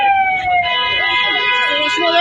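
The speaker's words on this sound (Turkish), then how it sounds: "Ambulans geliyor." Ambulance siren wailing close and loud at a multi-vehicle traffic accident in Şanlıurfa, a continuous rising and falling tone with people talking underneath.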